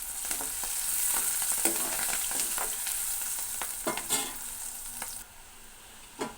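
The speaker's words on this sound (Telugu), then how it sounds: "ఇప్పుడు వీటిని బాగా ఫ్రై చేసుకొని ఇప్పుడు కరివేపాకుని కూడా యాడ్ చేసుకుంటున్నాను." Garlic cloves and curry leaves fry in a pan for a tomato curry, a steady close sizzle with scattered spatter pops and occasional scraping stirs, no voices.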